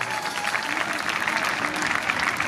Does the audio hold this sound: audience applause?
yes